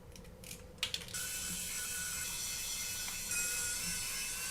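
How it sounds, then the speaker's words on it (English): Small screws are backed out of the front right arm of a DJI Mavic Mini drone with a ratcheting screwdriver, giving a close, steady run of fine mechanical clicking after a few initial taps. "I'm just going to take the screws out"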